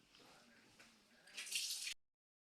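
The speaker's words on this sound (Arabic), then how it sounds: "اغسل ايدي." Hands washed under a running kitchen tap, a steady soft splash of water that grows louder toward the end before the flow abruptly stops.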